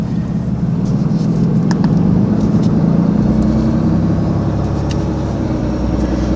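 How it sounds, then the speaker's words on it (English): A 2021 Ram 2500 pickup's engine runs steadily during a regeneration cycle, a loud, continuous low rumble with a faint turbo whine, heard close from inside the cab. "typically the truck is always a little bit louder in regen"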